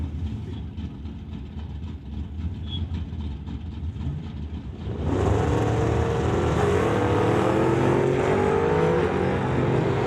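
Drag racing cars, including a 1992 Chevy II, launch at an NHRA Summit ET Series event; a low engine rumble idles, then jumps into a loud, sustained roar of acceleration that holds to the end.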